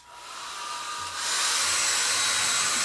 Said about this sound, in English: I'm going to hit it with the hair dryer and just dry it along